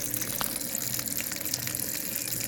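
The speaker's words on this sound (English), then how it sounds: "we're going to want to run some water over here, some cold water" Cold tap water pours steadily over macaroni salad in a kitchen sink, a continuous close splashing gush with no voices.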